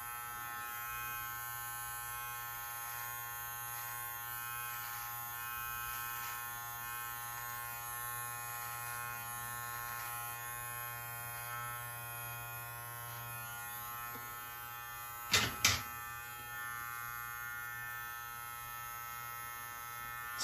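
A Live Bearded MT-1 beard trimmer buzzes steadily and close while trimming a medium-length beard, with a constant high-pitched motor whine and a couple of brief louder clicks near the end.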